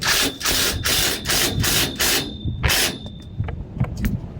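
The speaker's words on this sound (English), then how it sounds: "go ahead and tighten that up with your impact" An impact driver tightens a nut on a metal play dome frame, hammering in about six rapid bursts before it stops, followed by faint clicks and handling noises.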